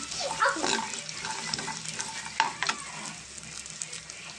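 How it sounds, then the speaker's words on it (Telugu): Raisins, almonds and cashews frying in a pan for jaggery payasam while being stirred, with a soft steady sizzle and scraping stir sounds up close, no talk over it. "ఇప్పుడు కిస్మిస్ కూడా వేసేద్దామండి ఇవి కూడా కొంచెం ఫ్రై అయ్యేదాకా మనం కలుపుతాము"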